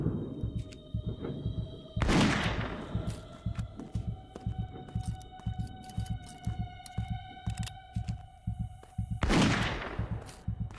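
Gunshots fire in the Witch Hunt video game, two loud sharp cracks spaced several seconds apart over a steady thumping, humming game background.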